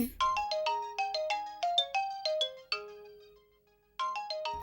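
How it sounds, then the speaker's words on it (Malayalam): A phone ringtone plays a bright, fast melodic pattern of plucked notes, then pauses briefly and starts again, clear and close with no voices over it. "ഒന്ന് ഫോൺ എടുക്കൂ"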